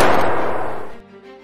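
A single loud, close gunshot from a movie scene, a sharp blast that decays over about a second.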